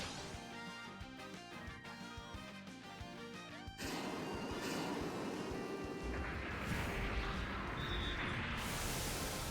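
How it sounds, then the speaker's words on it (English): Missile barrage from Genocider F9 in Super Robot Wars 30, heard as a sudden burst of explosions and crashing impacts, then a sustained roaring blast under the game's music. "here comes Genocider F9 with a missile barrage"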